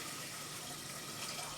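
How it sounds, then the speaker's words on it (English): Water is poured into the bottom pan of a makeshift double boiler being set up for making curds and whey, a steady, soft, close rushing splash throughout, alone and without talk. "I'm going to add a little bit of water to the bottom of the pan"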